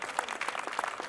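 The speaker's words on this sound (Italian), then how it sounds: "Lo fate un applauso a questo siparietto" Studio audience applauding a comic skit on an Italian TV variety show, a brief dense burst of clapping.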